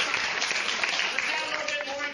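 An audience applauds in a room, a dense, even patter of clapping sustained throughout, with some voices mixed in.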